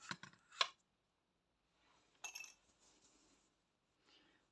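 Scissors snipping yarn while finishing a crocheted hedgehog head, a few short close clicks and snips in quick bursts separated by near silence.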